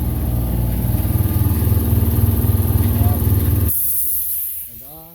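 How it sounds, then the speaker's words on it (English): An air compressor runs nearby with a loud pulsing motor drone and hiss, then cuts out abruptly and leaves a fading whine. "Prepare your ears for the air compressor."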